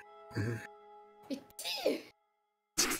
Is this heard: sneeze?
yes